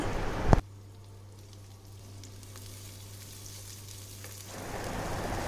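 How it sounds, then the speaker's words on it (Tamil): Chopped onion hits a hot pan for a raw papaya curry, starting with a sharp clatter and then settling into a soft, steady sizzle that swells slightly near the end, with a low hum beneath and no talking. "ஆனியன் சேர்த்து நல்லா வதக்கி விட்டுருங்க"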